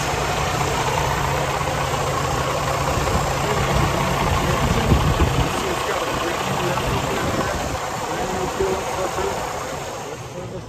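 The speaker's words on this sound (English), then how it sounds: "I want to get a good video of the engine running first." Diesel engine of a 2019 Freightliner Cascadia 126 truck idling, a loud, steady low rumble with a rough knocking texture that holds evenly throughout.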